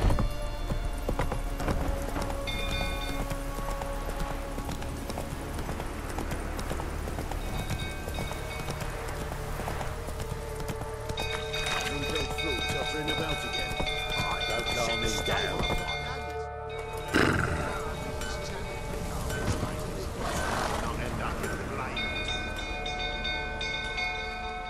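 Roach, the horse in The Witcher 3, gallops with steady rhythmic hoofbeats under game music and ambient noise, while voices talk over the sound partway through.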